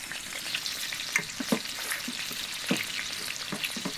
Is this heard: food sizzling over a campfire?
yes